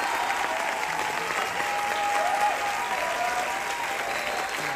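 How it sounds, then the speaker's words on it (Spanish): Theatre audience applauding steadily for a performer at a stage show celebrating 100 performances of "El mago", a dense, even wash of clapping sustained throughout without a break. "Fuerte aplauso para ella"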